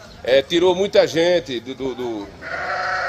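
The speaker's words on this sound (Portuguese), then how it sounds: "Olha pra esses bodes velhos aqui." Old billy goats at a rural farm bleat in short wavering cries, mixed in with someone talking loudly nearby, followed by a steady higher tone near the end.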